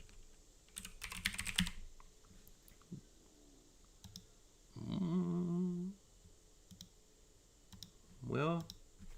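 Quick bursts of keyboard typing while entering a search term in Cura 3D printing software, soft clicks clustered early, with someone talking over parts of the clip.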